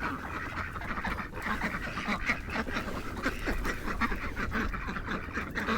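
A duck quacks repeatedly and continuously over a dense, noisy farmyard background, close and fairly steady throughout.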